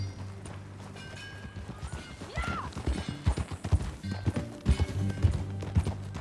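A horse in Red Dead Redemption 2 clops along with rhythmic hoofbeats that grow busier and louder, a neigh partway through, over a low game soundtrack.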